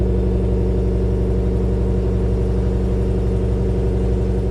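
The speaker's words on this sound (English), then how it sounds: "you do get that dual exhaust setup" A 2022 Chevrolet Tahoe Z71 with the 6.2L V8, off-road performance package and dual exhaust idles close by in a loud, steady, even rumble that holds without change throughout.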